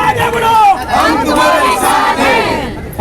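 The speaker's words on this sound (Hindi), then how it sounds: "एक जोरदार तालियां हो जाए हमारे आमदार प्रशांत ठाकुर जी के लिए।" At a protest gathering in Kharghar over water shortage, a loud crowd cheers and shouts together in a sustained roar for about three seconds, voices rising and overlapping.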